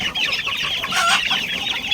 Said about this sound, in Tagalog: Ayan yung mga Tagalog kong manok